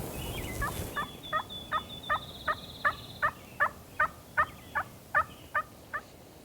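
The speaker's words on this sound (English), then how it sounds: "He's still gobbling though." Out in the field during a spring hunt, a wild turkey gobbles in a fast series of about a dozen rapid, evenly spaced notes. The calls come from a moderate distance over quiet outdoor background noise.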